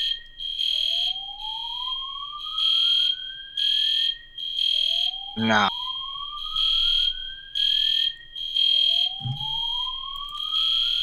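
A fire alarm sounds in a steady loop of loud electronic beeps in bursts, with rising sweep tones repeating beneath them, and a short vocal noise cuts in briefly partway through.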